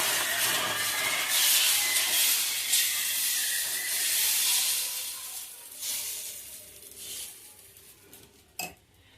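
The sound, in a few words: dosa batter sizzling on hot griddle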